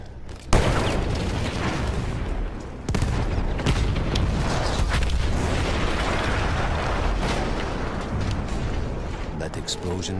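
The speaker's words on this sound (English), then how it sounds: "That explosion was one of the sweetest sights of the war for me." A loud boom erupts in a Battlefield 1 battle, followed by a sustained roar of blasts and gunfire. The noise stays dense and heavy for several seconds, with a voice talking over the chaos.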